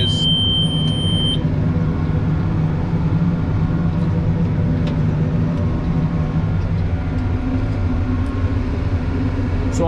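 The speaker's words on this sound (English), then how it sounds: "So now your PTO is going to be on, and then just throttle up." Tractor with the PTO engaged and the throttle up, hauling manure: a loud, steady mechanical drone with strong low harmonics, constant throughout, plus a brief high whine near the start.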